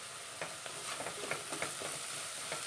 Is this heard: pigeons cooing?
no